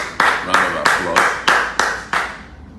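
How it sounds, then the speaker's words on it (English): A few people clap during a Nigerian political fundraising livestream, giving seven sharp, evenly spaced claps at a slow, steady rhythm with a faint background underneath. "Round of applause."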